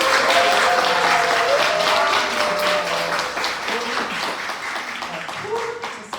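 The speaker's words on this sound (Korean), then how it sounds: "SPT님께 뜨거운 박수." An audience at a business seminar lecture in Daegu, South Korea, applauds loudly and continuously, the dense clapping tapering slightly toward the end, with a voice speaking over it.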